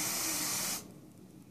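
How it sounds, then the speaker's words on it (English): A can of hairspray sprays onto hair to smooth down a stray front edge, giving one close, steady hiss that lasts under a second and then stops, leaving quiet room tone. "I'm actually gonna take my hairspray now and just smooth down the little edge right up here"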